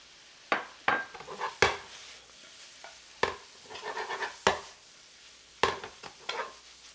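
Shallots and bacon tipped into a pan of Brussels sprouts, with sharp clanks of a utensil against the pan and a soft sizzling stir between them, close up and without talk.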